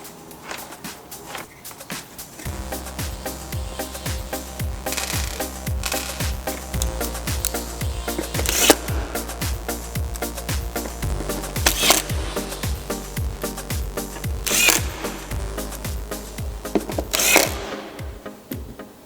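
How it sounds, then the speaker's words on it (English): A terminal cup is reinstalled on a subwoofer box, with close mechanical whirring and buzzing in several stretches mixed with clicks and handling knocks, and no talking. "And now we're ready to reinstall the terminal cup."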